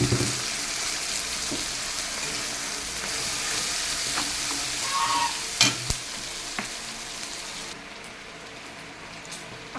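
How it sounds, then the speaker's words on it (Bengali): Tomato paste frying with onions in a pan, a close crackling sizzle with stirring and a few sharp clinks of a utensil, fading a little near the end. "আমি এবার দিয়ে দেবো কিছুটা টমেটো বাটা।"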